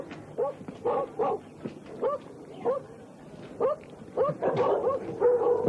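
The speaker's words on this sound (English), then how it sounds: "There's a particular vicious dog down here." A vicious dog by a rural border store barks in a string of sharp, close, loud barks and yips at irregular intervals, growing busier and more agitated toward the end.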